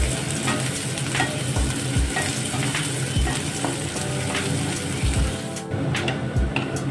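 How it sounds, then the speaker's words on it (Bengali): Onions fry in hot oil for an egg chicken devil dish, giving a loud, continuous sizzle with the repeated scrape and clatter of stirring in the pan. "পেঁয়াজটা ভাজা ভাজা করে নিতে হবে।"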